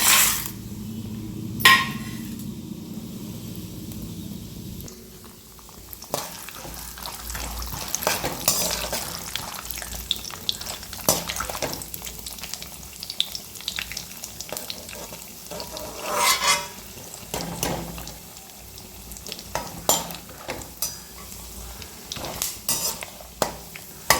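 Chana dal (split chickpeas) frying in a pan at home, with steady sizzling and frequent stirring scrapes and clinks of a utensil against the pan throughout, fairly close and without talk.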